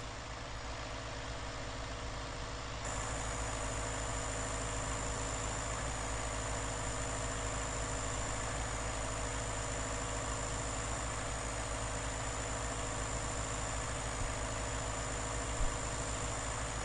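A tractor engine idles in Farming Simulator 19 on a USA farm map, a steady, continuous mid-to-low drone with a constant whine on top, unchanging throughout and with no talk.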